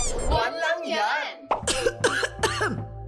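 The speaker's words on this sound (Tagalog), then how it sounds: "Ubo?" Several sharp coughs in a radio advertisement for a cough remedy, following a short stretch of talk and sounding close and distinct.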